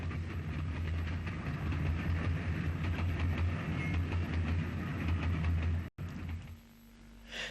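Ulster steam locomotive UG number 49 hauls an excursion train bound for Bangor past Knockmore Junction near Lisburn, a loud, steady rumble with rhythmic wheel clatter close by, then cutting off abruptly into quieter ambience.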